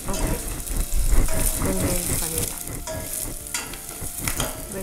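Onions sautéing in a pan over a medium flame, a steady close sizzle and fry with stirring scrapes throughout, while a person talks over the cooking.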